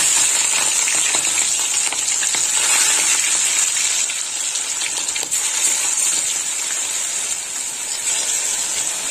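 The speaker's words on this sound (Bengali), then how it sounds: "গরম হয়ে গেছে, এবার চিংড়ি মাছগুলো দিয়ে দেবো তেলে।" About 400 grams of shrimp hit hot oil and fry with a loud, dense, steady hiss and crackle up close, easing slightly over nine seconds.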